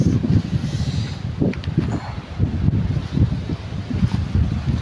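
Typhoon Tino wind lashes an island in a steady, roaring low rumble of gusts with surging buffeting against the microphone, loud and continuous throughout.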